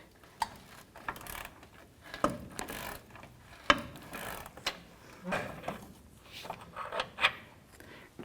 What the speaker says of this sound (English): So I'm going to do half-inch breaker bar and a half-inch ratchet.